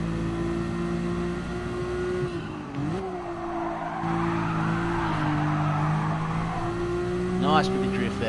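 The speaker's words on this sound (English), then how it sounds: "Nice bit of drift there" A car drifts in the Gran Turismo Sport video game, its engine droning in steady sustained tones while tires squeal and skid through a slide, with a sharp squeal and rev near the end; someone talks faintly over part of it.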